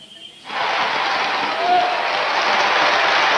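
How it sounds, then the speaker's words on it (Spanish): Applause for the entering president-elect, lawyer Patricio Aylwin Azócar, at the 1990 change-of-command ceremony, a dense, steady wash of crowd clapping that rises abruptly after a brief murmur and carries on loud and sustained. "los aplausos que usted escucha a continuación le muestran el ingreso del presidente electo, abogado Patricio Elwin Azócar"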